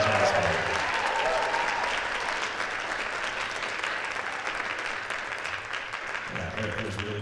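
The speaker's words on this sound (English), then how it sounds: "So let's give a round of applause for such an awesome accomplishment by the JV jazz band." An audience applauds the JV jazz band at a school jazz concert, a dense, steady wash of clapping that holds at full strength throughout and eases only slightly toward the end.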